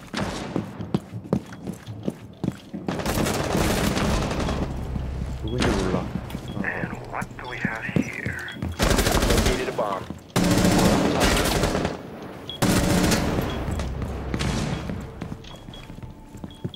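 Rapid automatic gunfire in Rainbow Six Siege, repeated loud bursts of shots and thumping impacts near and far, with brief pauses between volleys and some talking mixed in.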